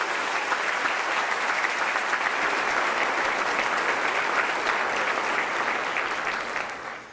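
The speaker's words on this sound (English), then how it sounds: "let's give them a warm round of applause" A scholarship banquet crowd gives a warm ovation for the event organizers, a thick, even wash of many hands clapping, moderately distant and steady until it tapers off in the final second.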